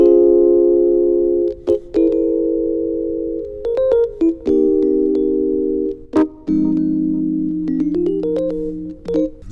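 Simple sustained keyboard chords from a sample change through four harmonies with brief gaps and clicks between them, played alone and fairly loud.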